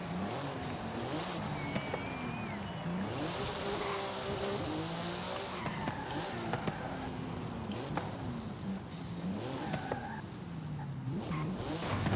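Engine of a car in Forza Horizon 5 being launched into a wheelie with a clutch pop, revving steadily and whining through rising and falling gear sweeps, loud and continuous with no talk over it.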